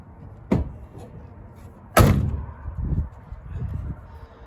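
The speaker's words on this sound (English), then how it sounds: "Doors open and shut very well." Two heavy car door slams from a 1964 Buick Riviera parked since 1999, a solid thunk near the start and a louder, fuller shut about two seconds later, followed by low rustling and handling noise.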